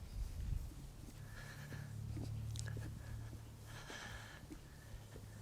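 A horse being ridden outdoors, with snorts, breathing and a faint whinny-like sound over low rumbling movement; moderately close, with no talk.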